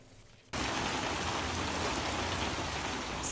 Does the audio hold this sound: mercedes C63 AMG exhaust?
no